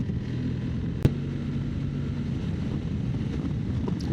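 Wind blows through a gentle desert sandstorm in the Sahara near Gara Medouar, Morocco, making a constant low rumbling roar against the microphone, with one brief sharp click early on.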